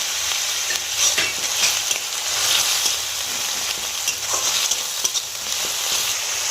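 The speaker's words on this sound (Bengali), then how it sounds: "চামচ লবণ দিয়ে দেবো, টমেটোটা তাড়াতাড়ি ভাজা হয়ে যাবে।" Tomatoes frying with salt in a pan for chana masala sizzle steadily while a spoon stirs with repeated scraping strokes, close and fairly loud, without speech.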